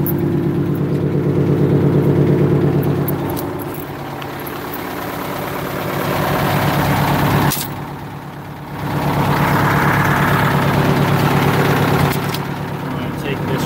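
An engine idles steadily right after starting, during a filter change, its low rumble running throughout with slight dips and swells and a brief drop near the middle.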